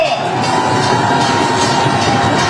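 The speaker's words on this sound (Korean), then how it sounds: "여러분, 사랑스러운 김문수 후보에게 뜨거운 박수 보내주시기 바랍니다." A large crowd at a market political rally cheers and applauds continuously, loud and dense, a roar of claps and shouts filling the space at close range.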